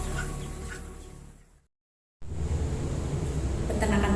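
Chickens on a chicken farm raised for meat and eggs cluck in a busy, steady chorus that cuts out briefly and returns, loud and close, with no one talking.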